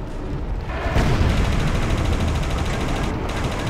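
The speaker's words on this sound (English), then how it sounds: "They're shooting rockets at me." Rockets fired and exploding in Battlefield Yugoslavia, a loud sustained roar of blasts and rumbling detonations that swells after a second and stays dense and heavy throughout.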